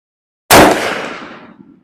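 A single loud, close rifle shot fires a Swift A-frame hand load at a range, a sharp crack followed by a rolling echo that fades over about a second.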